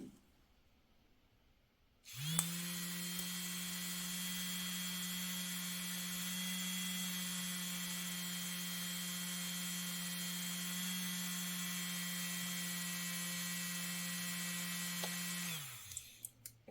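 A Fackelmann cappuccino milk frother's small electric motor switches on and whirs at a steady high speed for about fourteen seconds, a bright, even buzz with a strong hum, then cuts off, with no talking.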